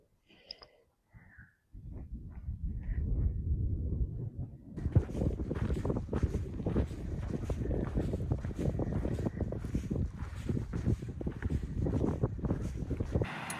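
Wind gusting across an open mountain trail in fair weather on a long-distance hike, a steady broadband rush that starts softly, thickens after a few seconds and then buffets the microphone continuously.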